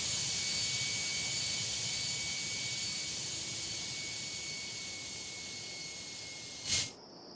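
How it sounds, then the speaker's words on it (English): Jet engine of a Gulf Air Airbus A321neo in the Tower Simulator 3 video game: a steady, loud broadband roar with a thin high whine that fades slightly, then a short sharp burst near the end. "this Gulf Stream, or Gulf Air, I should say, is a 321 Neo Airbus"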